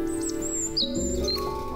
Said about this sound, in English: Oh look, we got birds in here.